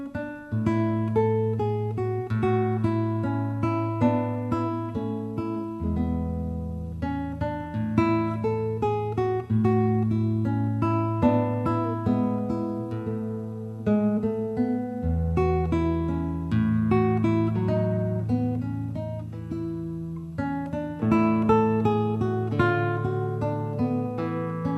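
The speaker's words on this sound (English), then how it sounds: "I'd like to play for you a very easy to learn classical guitar piece called Ecossaise." Classical guitar plays the easy piece Ecossaise, with a clean plucked melody over a bouncy bass line in a steady, lilting dance rhythm, close and moderately loud, with no talking.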